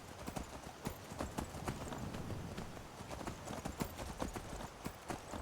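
Horse hooves clip-clop in Skyrim, a quick uneven run of sharp hoof strikes on hard ground, moderately near and fairly quiet, with some faint background sound beneath.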